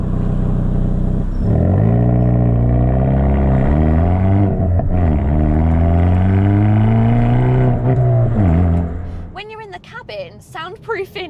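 A 2021 Hyundai i30N performance hatchback revs loudly, its exhaust rising and falling through several swells over about nine seconds before dropping off. Quieter pops or crackles and a faint voice follow.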